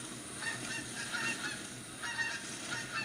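Pheasants in the hunting game The Hunter give honking, goose-like calls, several short cries rising over a faint hissing ambience, distant and quiet with no talk.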